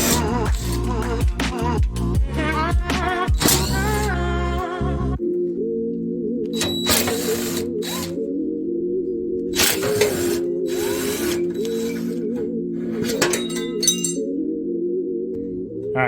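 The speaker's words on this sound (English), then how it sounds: "We're also going to take off the 4 bolts for this brace right here." Bolts on an exhaust brace of a 2002 Toyota MR2 come off under a power tool, with sharp metallic clinks and rattling at first, then several short bursts of drilling over a steady background hum.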